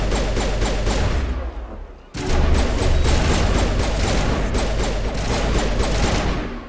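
A burst sniper rifle in the game Mass Effect 1 fires in rapid rattling volleys, loud and dense, pausing briefly near the start before the repeated shots resume and continue to the end.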